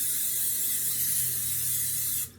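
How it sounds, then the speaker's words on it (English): Cooking spray sprayed onto an air fryer pan: one steady hiss from a can lasting about two seconds, close and clear, that stops abruptly. "I'm going to spray my pan."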